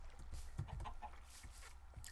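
Chickens in the video game Minecraft give a few soft, short clucks at irregular intervals, faint and low in level, with no talking.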